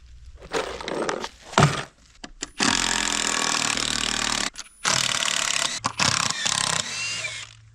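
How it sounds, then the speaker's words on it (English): Wooden formwork is taken off cured concrete with a power tool, most likely a drill driver backing out screws. It whirs hard in long bursts close by, with scrapes and knocks of timber in the short gaps. "First order of business, I need to remove all the formworks."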